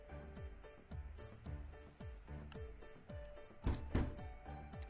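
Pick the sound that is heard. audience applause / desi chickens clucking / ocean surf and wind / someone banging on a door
someone banging on a door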